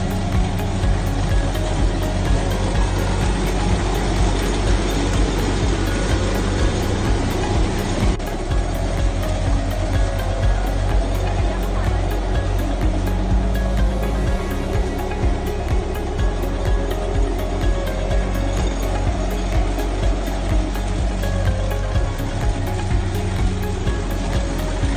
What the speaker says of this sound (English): Harvester tractor has its three essential functions, from reaping, threshing,